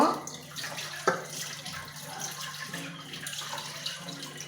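Dishes are washed under a running kitchen tap, with a steady stream of water splashing into the sink, broken by a few clatters and knocks of utensils, close and continuous.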